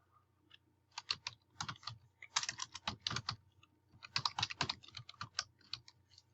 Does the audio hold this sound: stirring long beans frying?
no